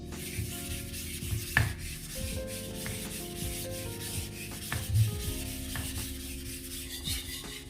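A knife blade is rubbed back and forth across a coarse diamond sharpening stone in a steady scraping rhythm, with a few sharper clicks, close up and with no talk.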